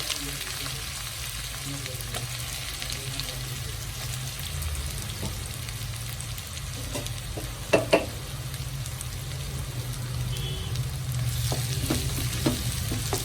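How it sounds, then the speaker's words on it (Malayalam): Sliced onions fry in oil in a pan, producing a continuous, even sizzle up close, with a couple of sharp clicks from a utensil midway. "ഒരു പാത്രത്തിൽ എണ്ണ ഒഴിച്ചു സവാള ഇട്ട് കൊടുക്കാം"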